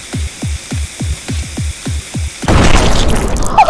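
Bomb blowing up in the multiplayer video game Crab Game: a steady run of short, regular thumping ticks, then a sudden loud burst of crackling noise that fills the last second.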